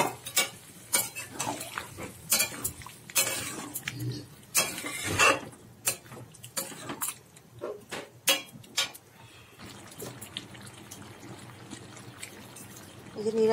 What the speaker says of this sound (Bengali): এঁচোড়টা ভালো করে কষিয়ে নিচ্ছি।